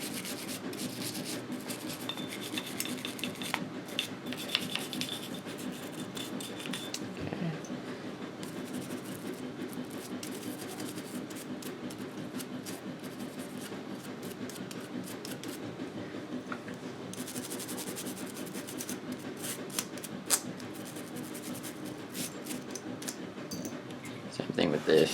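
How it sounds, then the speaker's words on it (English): Scrubbing a Springfield XDM pistol slide with a brush during cleaning, steady close rasping and rubbing strokes that run continuously for the whole span, under someone talking. "brush everything, get in the slide, make sure you're getting all the crevices and everything"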